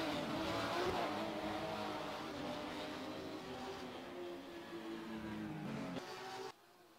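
Porsche GT3 Cup race cars rolling into the pit lane at the Nürburgring, a steady dense engine roar from several cars that holds for about six seconds and then drops away abruptly.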